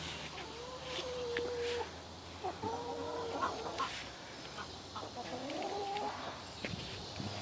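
Chickens cluck softly at a moderate distance in a summer garden, their short calls repeating irregularly over a steady outdoor background hum.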